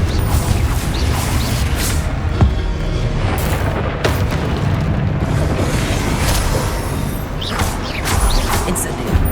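The Confringo blasting spell in Hogwarts Legacy sets off loud, booming explosions amid a dense, continuous rumble of combat effects, with sharp bursts recurring throughout.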